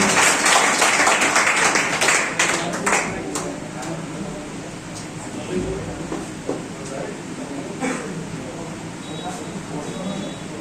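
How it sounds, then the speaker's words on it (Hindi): Students at a Teacher's Day school event give a round of applause for their teacher, with dense clapping loudest at the start and then thinning, along with voices and a few sharp pings. "जोरदार तालियां"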